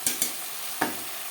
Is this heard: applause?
no